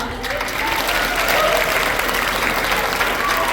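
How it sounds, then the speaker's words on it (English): An audience at a high school chorus's final concert breaks into loud, sustained applause that swells after a brief start and carries on steadily, with some crowd murmur mixed in. "Give a round of applause"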